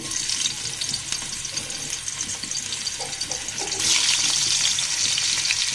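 Cooking oil heating in a pan for a home-style chicken dish, starting as faint crackles and turning into a louder, steady sizzling hiss partway through, with no voices.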